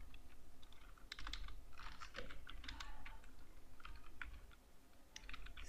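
Quiet typing on a computer keyboard: a steady, irregular run of light key clicks with brief pauses, heard alone.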